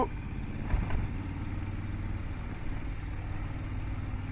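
A Triumph Scrambler 1200 XC motorcycle engine runs with a steady low rumble while riding off-road, holding an even drone without sharp revs, with some wind noise throughout.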